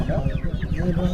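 Hens cluck at a busy Saturday hen market in Mydukur, Rayalaseema, a low rhythmic clucking heard close amid crowd chatter and voices.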